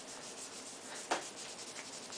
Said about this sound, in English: Rub it, like, especially the parts that are really dirty.